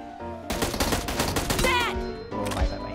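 Gunshots in a shooting video game during an intense Thar match, a cluster of sharp rapid shots in the middle, then a short pause before another burst, with game sounds and light background activity.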